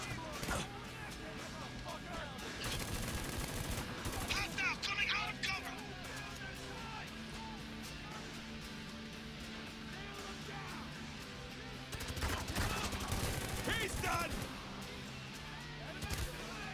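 Spec Ops: The Line gunfire and explosive blasts over a constant battlefield din, with bursts of shots in clusters and a loud salvo near the end, while a voice talks over parts of it.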